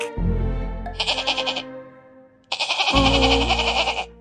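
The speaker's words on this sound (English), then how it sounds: "A goat." A cartoon goat bleats twice in a row, each bleat loud and close, a wavering nasal call with a short pause between them.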